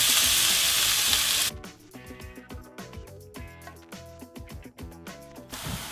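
Onion hitting a hot pan while making fried cabbage piroshki gives a loud hiss and sizzle for about a second and a half, then music takes over with the frying faint beneath it.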